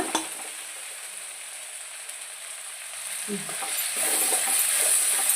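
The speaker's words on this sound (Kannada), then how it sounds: "ಸ್ವಲ್ಪ ಅರಿಶಿನ ಹ್ಯಾಡ್ ಮಾಡಿ ಈ ಥರ ಫ್ರೈ ಮಾಡೋಣ" Tomato with turmeric frying in a pan for a hotel-style potato palya, a steady low sizzle that grows slightly louder toward the end, with a few faint stirring scrapes and no talking.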